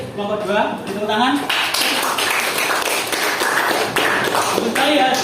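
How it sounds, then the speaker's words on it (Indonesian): A classroom of students claps for a group presentation, a steady run of taps and claps carrying through, with children's voices and chatter mixed in around it. "tepuk tangan"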